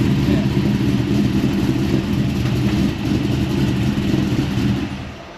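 A supercharged LS V8 swapped into a Nissan Patrol runs with a steady, loud low rumble close by, holding even before easing off slightly at the very end.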